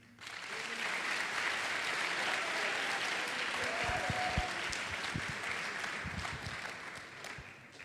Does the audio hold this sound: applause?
yes